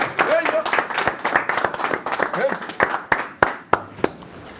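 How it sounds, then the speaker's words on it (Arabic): Audience applause at a live stage performance: a dense patter of clapping from a nearby crowd that thins into a few separate, louder claps near the end, with a voice speaking over it. "هيا تصفيق"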